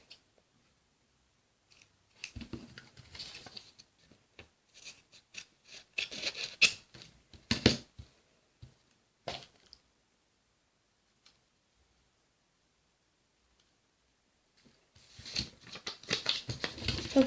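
Scissors snip thin strips of paper close up, a run of crisp separate cuts mid-clip and another quick burst near the end, with quiet pauses between.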